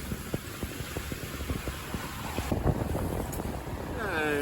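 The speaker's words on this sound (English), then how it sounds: "We are motor sailing out the South Pass." A sailboat motor sailing out through a reef pass off New Caledonia, with a steady low engine drone under rushing wind and water noise, faint ticking pulses, and brief voice sounds near the end.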